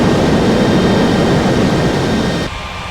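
Aircraft on a runway at an airport, a loud, steady broadband jet engine roar that stays close and constant, then drops slightly in level near the end.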